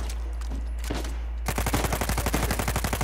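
Rapid automatic gunfire in the video game Uncharted 4 starts after a short quieter stretch and then rattles on in a dense, loud, evenly spaced burst with no talk.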